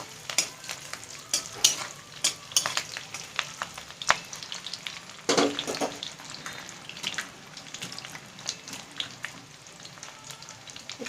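Spices with chili powder fry in a pan, giving a soft, steady sizzle broken by scraping stirs and brief clinks of a utensil, with a louder stirring burst partway through and no talk.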